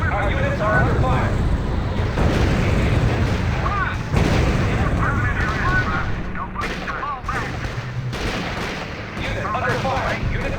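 Artillery and gunfire in the World War II strategy game R.U.S.E: booming shell blasts and bursts of gunshots run steadily through the whole stretch, loud and dense, with radio-style voice reports heard over the battle.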